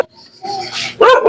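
A household dog, kept tied up, gives short close barks and yips near the end, after a stretch of quieter background sound with people nearby.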